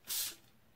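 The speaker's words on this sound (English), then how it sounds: "spray some cool blue over that" A single short burst of blue spray paint hisses from an aerosol can inside a homemade craft spray booth, loud and close, lasting about a quarter second before fading to quiet.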